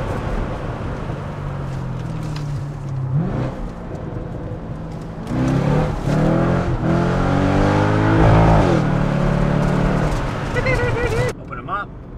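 From inside the cabin, a C6 Corvette with universal valved mufflers opened up accelerates hard, its loud exhaust drone climbing in pitch through rising revs with brief dips between gears, then cutting off sharply near the end.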